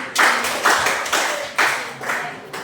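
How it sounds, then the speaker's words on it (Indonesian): Several sharp hand claps in an uneven burst, close and loud, with no talking. "Oke, tepuk tangan."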